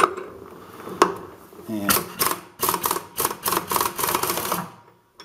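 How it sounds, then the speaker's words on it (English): A 1 1/4 inch socket works a nut loose on an Allis-Chalmers B1 tractor, giving a single sharp clack and then a run of quick, loud metallic ratcheting clicks close by. "Okay, so we need to remove this nut. Best way I've found, 1 1/4 inch socket."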